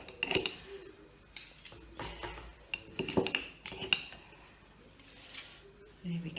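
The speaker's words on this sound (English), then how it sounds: "So we just get 2 spoons and literally spoon of jam in, and use the other spoon just to push it off" Two metal spoons clinking and scraping as jam is scooped into mince pie cases in a home kitchen, with scattered short clinks and taps close by while a voice talks over them.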